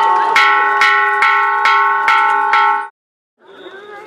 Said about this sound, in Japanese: 太鼓や鐘の音が響き、歓声が上がっていました。